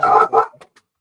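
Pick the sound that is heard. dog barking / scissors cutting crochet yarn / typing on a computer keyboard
dog barking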